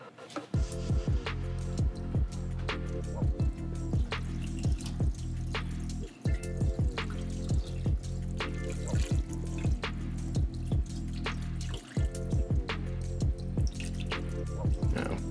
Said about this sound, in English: I'm gonna go ahead and add more water in here.